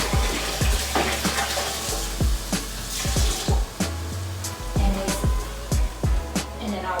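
Water pours into a cooking pan of seasoned vegetables, a continuous close splashing flow with repeated low knocks and clatters throughout.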